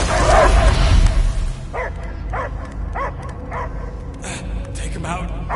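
A dog in the Guardians of the Galaxy video game gives a string of short, evenly spaced barks and yips after a louder opening burst, close and clear over a low rumbling background.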